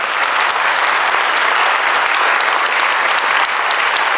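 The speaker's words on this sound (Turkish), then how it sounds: "Onun için çok güçlü bir alkış rica ediyorum." A large audience at a memorial tribute gives strong, unbroken applause, a thick wash of many hands clapping at full volume from start to finish.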